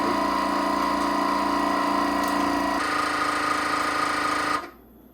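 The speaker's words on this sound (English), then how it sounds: "So I'm gonna go ahead and just start vacuum sealing that bag." Vacuum sealer pulling the air out of a bag of lacto-fermented gazpacho, a loud steady motor drone that changes pitch midway as the bag tightens, then cuts off abruptly near the end.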